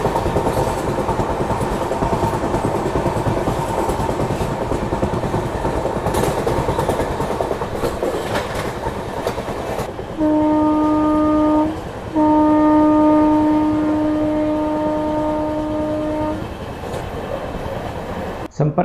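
Sampark Kranti express train running at speed, a steady rumbling roar of carriages on rail, with a sustained horn-like tone sounding twice in the latter half.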